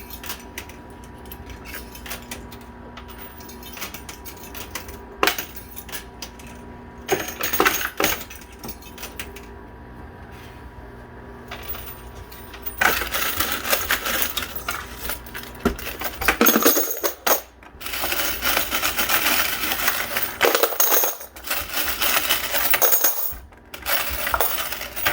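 Coins clatter and drop inside a coin-pusher machine, a dense run of metallic jingles and clinks that comes in bursts, louder in the second half, with mechanical machine noise underneath.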